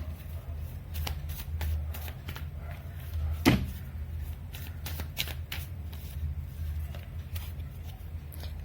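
Tarot cards are shuffled and drawn by hand in a quiet room, giving a run of soft papery riffles and flicks with one louder slap near the middle, close and clear with no talking.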